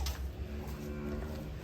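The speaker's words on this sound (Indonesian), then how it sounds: "Nah, sapi." A very large black cow gives one deep, close, loud moo that lasts through the whole short stretch. A low rumbling outdoor background sits underneath it, and no one speaks.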